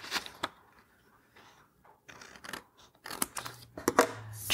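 Scissors trim a magazine page in a few crisp, close snips with rustling paper between them, building toward the end.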